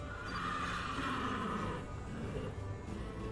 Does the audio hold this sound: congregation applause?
no